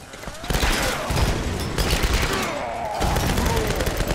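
Rapid automatic gunfire fills a scene in the 2013 Tomb Raider game, with dense, loud bursts that pause briefly before the shooting resumes.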